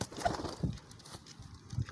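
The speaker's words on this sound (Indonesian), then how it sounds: "Nah ini nih merpati yang ditunggu-tunggu, merpati piyik giring perdana." A young racing pigeon coos softly in short, low murmurs, faint and close against a quiet background with a little rustling of movement.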